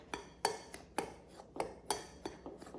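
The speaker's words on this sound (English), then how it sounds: "I'm just going to whisk this around with my little knife here" A small knife whisking apple crisp ingredients in a bowl: a quick, uneven series of sharp metallic clinks and taps against the dish, close and clear, with no talking.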